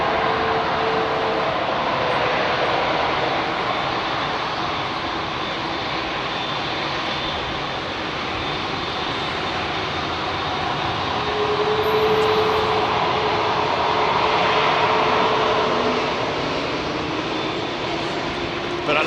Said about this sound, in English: So that's the A330CEO, A330CEO and the A330neo